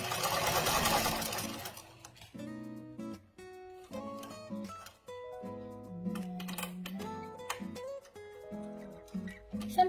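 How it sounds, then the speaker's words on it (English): A sewing machine stitches back over a seam on a fabric scrunchie, starting with a loud, dense burst of whirring and then settling into a steadier, close-up mechanical run with brief pauses. "so now I'm going to be sewing back over what I just did"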